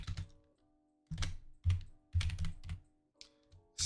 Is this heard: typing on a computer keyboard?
yes